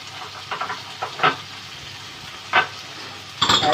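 Chicken slices sizzling on a hot tawa after coriander and mint are added, with short bursts of frying hiss as the pieces are stirred over a steady low background.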